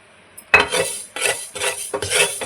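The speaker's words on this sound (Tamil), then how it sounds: "இப்போ முதல்ல வெந்தயத்தை வறுத்து எடுத்துக்கலாம்" Fenugreek seeds dry-roasting in a pan for a tomato pickle, heard as bursts of rattling and scraping as the seeds are stirred, four close, loud rounds of clatter with short pauses between.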